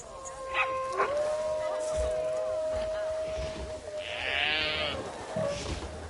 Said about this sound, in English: The wolves are very loud. Like you can hear them howling across the map.